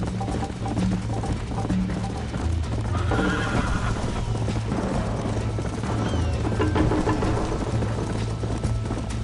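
A horse in the video game Red Dead Redemption gallops with rhythmic clip-clop hoofbeats and neighs loudly over steady background game sound.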